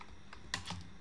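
Several quiet keystrokes on a computer keyboard as a search query is typed, a short burst of clicks with a slightly louder tap near the middle, no voices.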